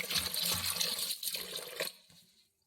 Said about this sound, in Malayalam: വെള്ളം ഒഴിച്ച് കഴുകിയെടുക്കാം അരിഞ്ഞെടുക്കാം